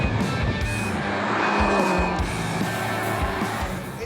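A performance car accelerates hard along a road in South Korea, the engine roaring and rising in pitch through the gears while tires squeal, loud and close throughout.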